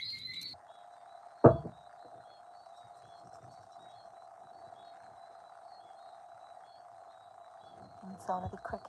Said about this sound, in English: sound of the crickets is nature's music